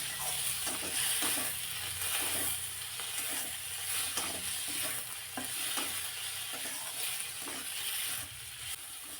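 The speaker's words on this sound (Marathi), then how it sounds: "जरा वेळ हे चांगलं परतून घ्यायचे." Chopped tomatoes sauté in a hot pan for a dhaba-style bhaji, a dense constant sizzle broken by repeated scraping stirs of the spoon, close up and with no voices.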